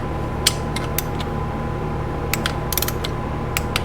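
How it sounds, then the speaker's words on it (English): A torque wrench tightening bolts on a vintage Honda CB350 engine during a rebuild, heard as sparse sharp clicks in small clusters over a steady background hum, close and clear. "We'll just torque it real quick before we move on, and then we'll tighten those down."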